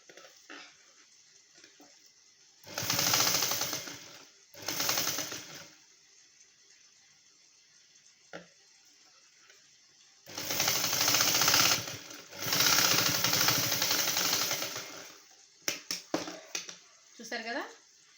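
A sewing machine runs in loud bursts of rapid stitching around the neckline of a prince-cut blouse, four runs separated by quiet pauses, close by, with some faint handling sounds.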